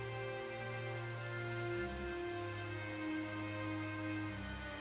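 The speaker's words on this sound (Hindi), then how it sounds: "तेज बारिश शुरू हो गई" Heavy rain falls steadily in an animated story about a flooded village, a continuous hiss of drops on surfaces under a sustained, tonal musical score.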